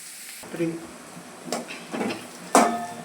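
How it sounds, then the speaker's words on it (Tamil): Onions fry in a pan with salt until light brown for puffed-rice upma, with soft sizzling and a few distinct spatula scrapes and pan clatters, quiet and close, no voices. "லைட்டாக இது லைட்டாக ப்ரௌன் ஆகிற வரைக்கும் நம்ம ஃப்ரை பண்ணணும்"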